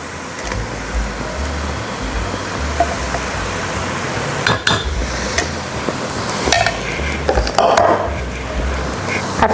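Chilies and water are stirred in a wok over heat, with a steady soft sizzle and bubbling and occasional scraping of the utensil against the pan, close and continuous.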